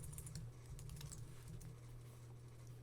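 Keys on a computer keyboard are tapped in a quick, quiet run while renaming an artboard in Illustrator 2026. The soft, close clicks come unevenly over a low steady hum.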